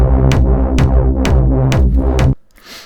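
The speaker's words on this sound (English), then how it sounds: "how to use the envelope follower to trigger parameters of synths like the Tubesynth" An Akai Force Tubesynth pulses in rhythm, gated by an envelope follower fed from a drum track; about five punchy, thick hits sound close and loud, then cut off abruptly.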